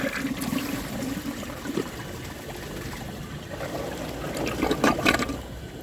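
A 1998 Eljer Savoy low-water toilet flushing on a second try against a partial clog, steady rushing and trickling water throughout, swelling into a louder gurgle near the end, close by with no talk.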